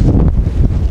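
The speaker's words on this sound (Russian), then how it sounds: "Метет. Холодно, ветер дует." Strong wind roars and buffets the microphone in gusts during a snowstorm at a car market in Vladivostok, a loud, rough outdoor rush with no voices.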